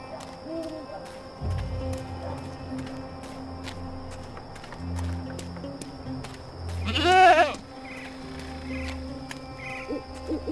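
A goat in the Dreamfall Chapters video game gives a short wavering bleat midway, standing out over a quiet ambient score with low drones and soft hooting tones.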